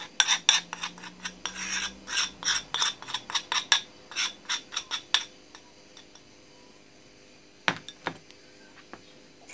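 A spoon scrapes and clinks rapidly against a cup while a homemade cough remedy mixture goes in. The quick metallic strokes stop, then a few isolated taps follow after a pause.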